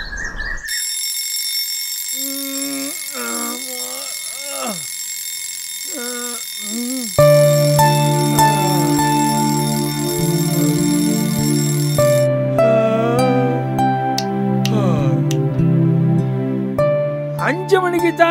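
An alarm clock rings with a steady, shrill electronic tone for about twelve seconds in a live-action Tamil cartoon scene, while voices talk over it and continue after it stops.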